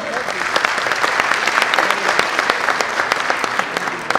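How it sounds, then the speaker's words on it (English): Steady applause from a film festival audience fills the whole stretch, dense overlapping claps at even loudness with no talk over it. "So, round of applause for the audience who being here."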